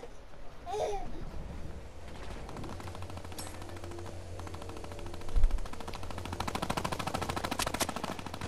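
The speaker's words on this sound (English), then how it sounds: "It takes an AR so long to shoot this" Assault rifle fire in Fortnite, a run of rapid shots sitting under a babble of game noise, with the firing growing denser toward the end.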